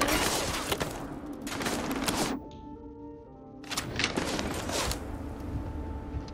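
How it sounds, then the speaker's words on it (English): Gunfire in the video game Starfield on the Fermi II planet, dense bursts of rapid shots filling the first two seconds, a brief lull with a tonal ringing, then another sustained volley of shots returning loudly. "who's shooting at me?"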